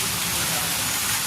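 Heavy rain pours steadily onto a flooded street, a dense, unbroken hiss at constant loudness, with no other sounds standing out.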